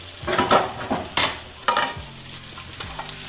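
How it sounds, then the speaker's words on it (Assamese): Potatoes frying in a pan for mutton curry, with a steady sizzle and the scrape of a spatula stirring them several times. No talking. "আলুখিনি মিনিমাম 4 মিনিটমান ভাজি ল'ম"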